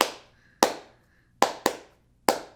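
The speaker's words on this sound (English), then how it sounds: "The song also premieres the appearance of the very divisive among the fan base hand claps." Sharp, dry hand claps from a song, five isolated claps in an uneven pattern with short decaying tails and near silence between them.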